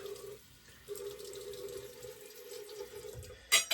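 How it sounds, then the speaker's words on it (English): Running tap water pours onto an Amber Arrowlight shaving brush from Phoenix Shaving, a steady splashing stream that stops briefly then resumes, ending with a sharp knock. "So again, go ahead and add some water to this."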